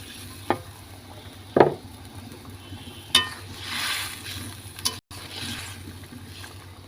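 Fried catla fish pieces go into a spiced gravy simmering in a pan, a soft bubbling sizzle broken by a few clattering knocks and a splashy slide of pieces dropping in.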